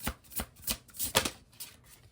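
Oracle cards shuffled by hand, giving a rhythmic series of soft, close riffling swishes and taps, roughly two to three per second, with no talk.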